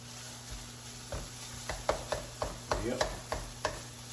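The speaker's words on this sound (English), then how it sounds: "The more you chop it, the easier it is to cook it." Sausage being chopped up with a utensil as it fries in a pan, a quiet sizzle punctuated by a string of close, sharp taps and scrapes that quicken toward the end.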